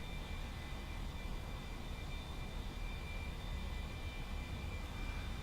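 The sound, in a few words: A-4E-C jet engine on takeoff roll, DCS video game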